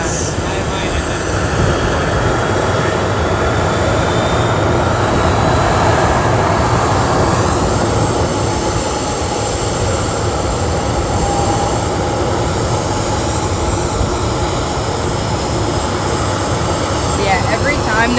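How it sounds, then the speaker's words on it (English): A jet airliner taxis near a terminal at Boise airport, its engines holding a loud continuous roar with a gradually shifting whine, heard up close under wind buffeting, with voices talking in the background. "I love it when a plane pulls in over here."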